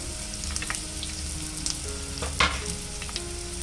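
Onion, green chilli, curry leaves and chopped ginger and garlic sauté in hot oil for a chicken stew, a steady close sizzle with scraping stirs and one louder clatter of the spoon.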